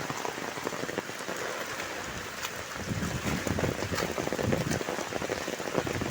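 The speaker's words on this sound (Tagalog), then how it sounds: "napakalakas ng hangin at ulan mga kaibigan" Heavy rain from Typhoon Kristine in the Philippines pelts a surface nonstop while gusty wind roars, growing louder partway through; no one speaks.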